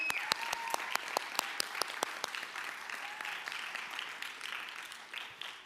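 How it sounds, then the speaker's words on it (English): High school fine arts awards ceremony crowd applauding a student award winner, opening with a few loud, distinct, evenly spaced claps before swelling into a dense, sustained round of applause. "Can we give Tyler a big round of applause?"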